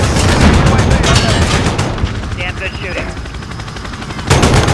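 Loud rapid bursts of automatic gunfire in a shooting video game, a dense rattling volley that stops briefly, leaving a quieter lull, then erupts again at the end.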